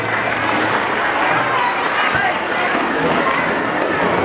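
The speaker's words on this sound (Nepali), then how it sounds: "विद्यार्थी भाइ बहिनीहरू ताली बजाउने ल" Students clapping throughout at a school Parents Day event, a dense, steady wash of applause from a large group with crowd murmur.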